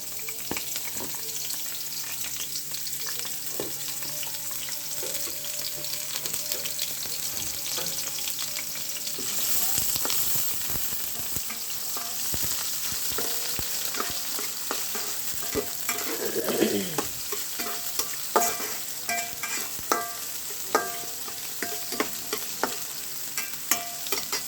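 Green chillies and onion sizzle in hot oil in a pan as the base for bottle gourd greens, a continuous soft frying hiss broken by scraping and clacking stirring strokes, with no one speaking.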